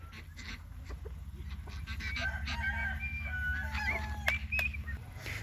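Geese in their pen on a poultry farm honk in a few short nasal calls over a low steady rumble, moderately close and rising toward the end.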